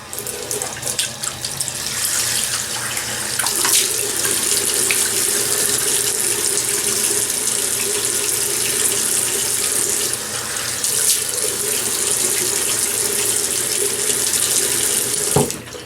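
Tap water running steadily into a sink at a barber shop basin for wetting the face before a shave, a continuous close splashing stream without a break, ending with a brief clunk.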